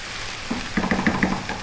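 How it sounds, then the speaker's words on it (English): A spoon scraping and clinking in a pot of chicken potato stew, several quick stirring strokes in a short rhythmic burst, close and fairly quiet, with no talk. "We're going to go for another 4 or 5 minutes, stirring fairly often."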